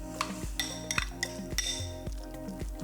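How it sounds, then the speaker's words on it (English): Lobster chunks mixed into sauce in a bowl, a utensil clinking against the bowl in a steady repeating rhythm with soft wet stirring between the knocks, close and alone. "Toss that into my sauce. Mix all of that together, the sauce and the lobster."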